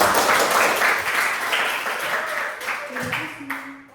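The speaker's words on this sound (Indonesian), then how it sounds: "silakan beri tepuk tangan dulu untuk" Loud applause from a seminar audience in an Indonesian discussion session, a dense, continuous clatter of clapping with voices coming through toward the end.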